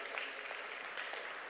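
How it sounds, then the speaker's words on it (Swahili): Faint, distant applause from delegates at a national primary health care conference, a soft continuous patter of many hands. "Naomba tumpigie makofi tena."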